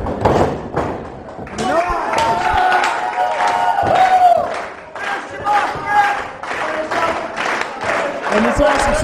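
A roaring wrestling crowd at a two-out-of-three falls match cheers and applauds continuously, with loud shouts, thuds and slams from the ring rising through the din.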